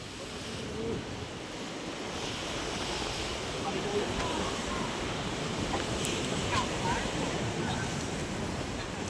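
Strong wind blows at a seaside fish terminal in Tanza, Cavite, at dawn, making a steady rumbling roar of microphone buffeting mixed with surf, and faint voices talk in the background.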